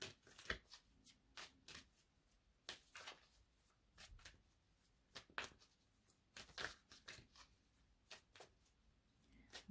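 Tarot cards are shuffled and drawn in a quiet room, making soft, irregular riffles and flicks in short bursts with pauses between them.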